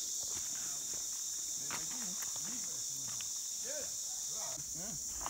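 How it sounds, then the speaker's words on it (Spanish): Steady, high crickets chirp continuously outdoors, with birds calling here and there and faint rustling underneath. "Solo se escuchan los cantares de los grillos, las aves"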